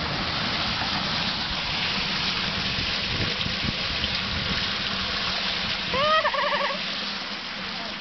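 Water pours and splashes out of a pool built in the bed of a Nissan Titan pickup, a steady broad wash running through the clip outdoors, with voices and shouts over it.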